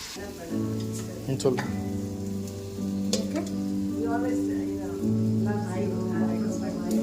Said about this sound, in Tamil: இதை போட்டு விட்டுறேன் ஃப்ரெண்ட்ஸ். நல்லா வதங்கட்டும், பச்சை வாசனை போகட்டும்.